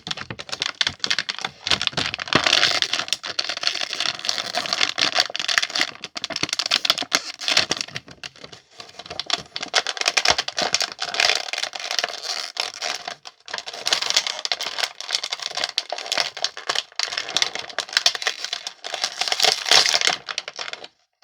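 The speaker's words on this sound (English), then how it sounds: "I just cut it, and I'm just gonna pop them out." Plastic packaging being cut and a toy figure popped out of it, heard as dense close crinkling, crackling and snapping plastic with irregular bursts and no talk.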